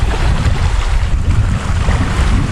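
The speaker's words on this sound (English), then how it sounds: "other than this loud wind right now" Loud wind roars steadily across the microphone on the Gunflint Trail in northern Minnesota, a dense, continuous rushing with heavy low-end buffeting and no voices.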